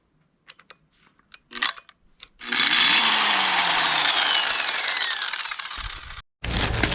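A power tool fitted with a rust-removal wheel spins up after a few scattered clicks and knocks. It then grinds loudly and steadily against corroded metal for several seconds, stops briefly, and starts again.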